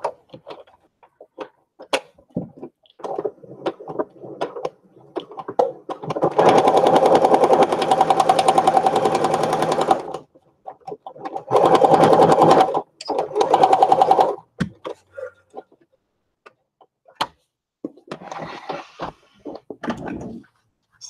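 Sewing machine stitching a stickpin lace book, two long loud runs of fast, even motor whir and needle chatter, separated by quiet handling and a shorter, fainter burst near the end.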